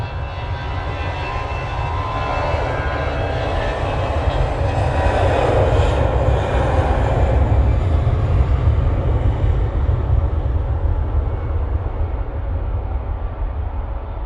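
A Norwegian airliner at Manchester Airport gives a loud, sustained jet engine roar with a deep low rumble. The sound swells through the middle and then slowly fades, with no talk over it.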